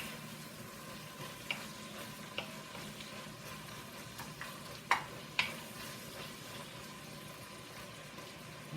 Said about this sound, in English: So I'm going to saute it up a little together with the onions and bacon.